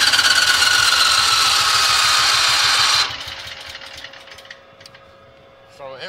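A gasifier-equipped engine from a 2016 Vulcan setup cranks over loudly and steadily for about three seconds, then stops, leaving quieter mechanical hum and light clicks.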